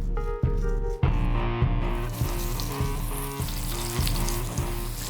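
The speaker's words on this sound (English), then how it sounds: "Hot pan, olive oil." Bacon-wrapped chicken sizzles and fries in olive oil in a hot pan, a dense, steady crackle that runs without pause beneath background music.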